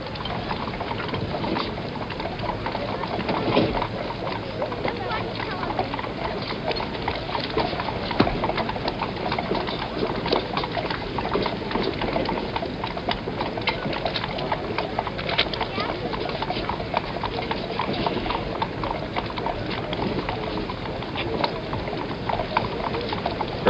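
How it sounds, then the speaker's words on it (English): Hooves of three teams of horses drawing Gen. Dwight D. Eisenhower's funeral caisson along Constitution Avenue clop steadily and continuously, blended into broad outdoor street ambience. "former Commander-in-Chief passes that caisson, drawn by 3 teams of horses."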